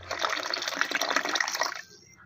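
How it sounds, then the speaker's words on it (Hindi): Water pours onto dry-ground coconut in a grinder jar while making coconut milk, a steady gushing splash lasting about two seconds before tapering off, close and fairly loud with no talk. "अभी हम लोग पानी ऐड करेंगे"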